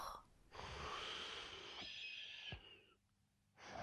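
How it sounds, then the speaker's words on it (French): Loud, rasping snoring breaths, two or three long drawn inhales with pauses between, close and heavy. "Il ronflait de plus en plus fort."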